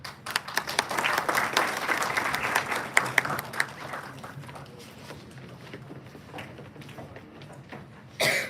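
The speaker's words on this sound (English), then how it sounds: "Please join me in rising to applaud and honor the extraordinary Dr." An audience rises to applaud an honored guest at a Navratri special event, with dense, sustained clapping that fades gradually before a short final burst.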